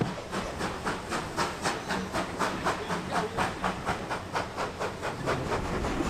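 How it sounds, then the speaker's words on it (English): A steam locomotive chuffs out of Haworth station on the Worth Valley Railway in West Yorkshire, its exhaust beats coming in a steady, even rhythm over a continuous hiss, close and fairly loud. "We pass the engine sheds as we steam out of Haworth."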